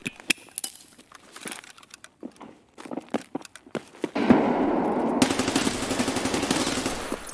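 Gunfire in Escape From Tarkov: a string of sharp separate shots and clicks in the first four seconds, then a sudden loud sustained burst of automatic fire and rumbling noise that continues to the end, no talking.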